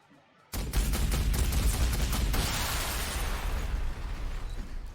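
Long-range super cannons firing in the Warhammer 40,000: Sanctus Reach strategy game, a loud burst of rapid overlapping booms and blasts that erupts suddenly and rumbles on as a sustained barrage.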